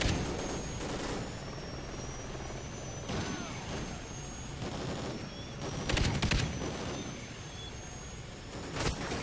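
A helicopter in the Call of Duty Ghosts video game thrums steadily throughout, overlaid by bursts of gunfire and explosive impacts in a busy battle mix, with no talking.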